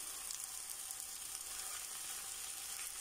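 Cauliflower and egg fry in a pan, giving a steady, fairly quiet sizzling hiss with faint stirring, no voices.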